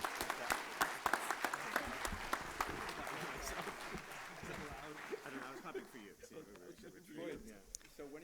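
An audience applauds a departing panel at a Mono Lake event, with dense steady clapping that gradually thins and becomes sparser toward the end.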